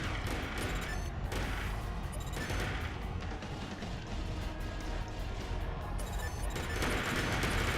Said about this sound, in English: So that's why I'm unleashing fire here with the machine guns.